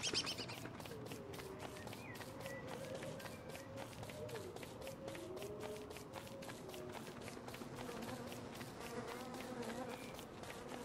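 Bees buzzing in the video game Don't Starve Together, a steady insect drone running under continuous game music and sound effects, with someone talking faintly at times.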